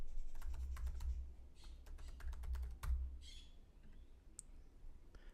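Typing on a computer keyboard in quick bursts of crisp, close keystrokes with a few mouse clicks, over a low steady room hum.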